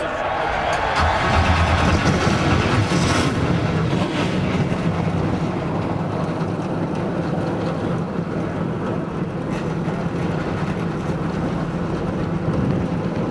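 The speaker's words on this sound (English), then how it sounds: "Gentlemen, start your engines!" NASCAR Cup stock cars starting and idling at Daytona International Speedway before a 2005 Duel race, heard as a dense, loud, steady engine roar that fills the whole stretch.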